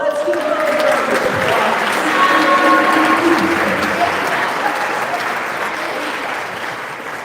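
An audience at an athletes' breakfast event applauds warmly, dense clapping holding steady for several seconds before slowly thinning, with a few voices mixed in.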